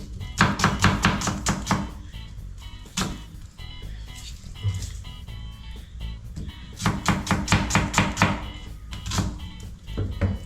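A knife chopping onion on a cutting board: quick, rhythmic, close-up strikes come in two dense runs separated by a short pause, with no talking.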